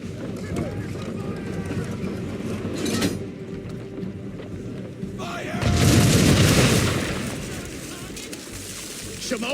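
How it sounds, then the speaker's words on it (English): Ship cannons in Assassin's Creed 3 Remastered fire at an enemy ship, booming heavily in a loud broadside rumble that swells and fades amid battle noise. "Now, aim all guns at her bow and do as much damage as possible."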